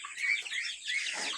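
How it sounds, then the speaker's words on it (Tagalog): A Brahma rooster gives a brief raspy cluck-like call, close by and fairly soft. "And ito na po yung rooster natin no, na Brahma"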